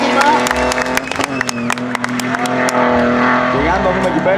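An Alfa Romeo 75 drifts at a drift competition final in Serres, its engine wailing loudly and continuously with shifting revs, while a commentator talks over it and a crowd applauds.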